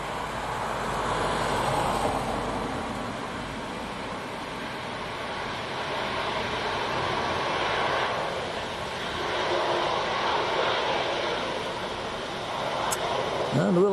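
An aircraft at Leeds Bradford Airport in strong winds, a continuous broad engine roar with gusty wind noise, fairly steady throughout with slight swells, no clear voices on top.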